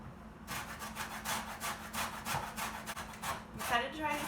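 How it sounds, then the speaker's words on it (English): A navel orange is rubbed against a handheld zester in quick, repeated scraping strokes, close and fairly quiet, with a steady rasping rhythm. "Oh, I also need some zest. Got a zester here."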